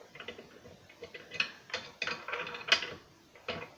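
A hand crank being fitted into a pasta machine, giving faint clicking, ratcheting metal knocks in a loose irregular series, with no talking.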